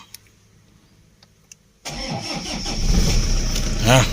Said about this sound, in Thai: เอาฟังเสียงเครื่องยนต์ก่อนหน่อยนะครับว่าเป็นยังไงนะครับ